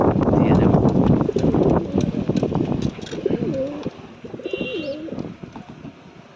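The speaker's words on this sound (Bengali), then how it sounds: "এবং এটি দেশি পায়রাদেরকে দিয়ে দেব।" Local desi pigeons coo in a loft with low, rolling calls, alongside a voice talking and some rustling and wind-like noise early on.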